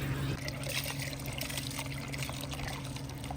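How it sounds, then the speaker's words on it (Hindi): Water trickles and dribbles out of an overturned water tank, a thin, steady, close stream that runs without pause. "ये थोड़ा थोड़ा पानी जो है ना वो निकल रहा है"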